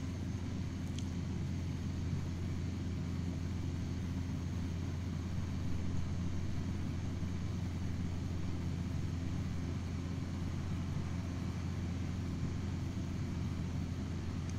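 Robinson R22 helicopter in Aerofly FS2 flying a circuit around Alcatraz Island, a steady droning engine and rotor rumble that holds evenly throughout with no voices.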